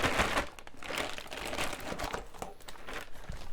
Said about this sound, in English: So I cut the bag open there.